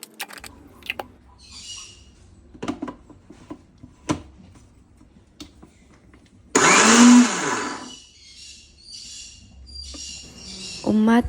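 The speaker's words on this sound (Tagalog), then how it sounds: "I will be grinding it with a small onion and chili powder" A mixer grinder whirs loudly for a few seconds, grinding scraped coconut with a small onion and chili powder, preceded by quiet kitchen clicks and knocks, then a second short burst at the end.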